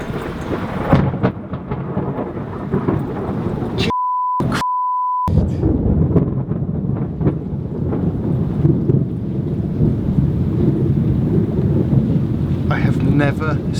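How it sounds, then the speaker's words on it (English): Loud, close thunder from a lightning strike about 50 metres away over open sea, heard from a sailboat at anchor: a deep sustained rumble with wind buffeting the microphone, a brief electronic beep in the middle, and excited voices. "I have never seen lightning that close."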